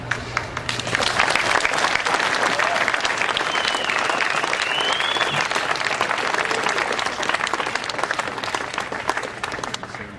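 An audience at a Half Dome first-ascent 50th anniversary gathering breaks into sustained applause, a dense wash of clapping that swells and holds loudly for about ten seconds.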